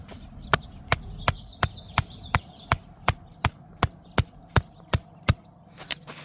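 Steady hammer blows drive a staple into an artificial turf seam, about sixteen sharp, evenly spaced metallic strikes ringing out close and loud over a low background hum.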